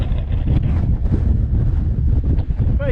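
Strong wind gusting across the summit of Doune Hill in the Luss Hills as weather closes in, a loud steady rumbling buffet against the microphone.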